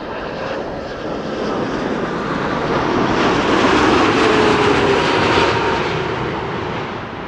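A KLM Boeing 747 arriving at Amsterdam Schiphol Airport from Delhi: a loud, steady jet engine roar that swells to a peak mid-way and eases off slightly, with no voices.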